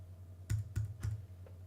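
Three sharp key presses on a computer keyboard, spaced evenly about a quarter second apart over a steady low hum, typing a number into a file permissions box during a Drupal 7 install; a faint fourth tap follows.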